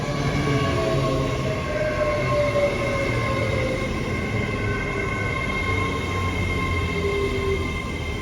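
A British Rail Class 800 train, unit 800-006, rolls steadily past close by at Didcot Parkway station, loud rumbling with faint squealing wheel tones, continuous for several seconds.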